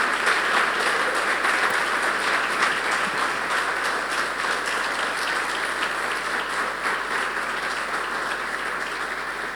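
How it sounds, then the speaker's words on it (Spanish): A church congregation applauds the Lord, producing a long, even wash of clapping that holds steady and only slightly fades toward the end. "Si le va a aplaudir al Señor."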